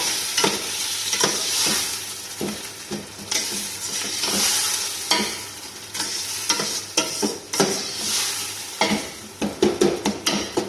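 Chopped onion and tomato with ginger garlic paste, for an Arabic-style mutton biryani, are stirred and fried in a pot. The spoon scrapes and knocks steadily over a continuous loud sizzle, with brisker clattering strokes near the end.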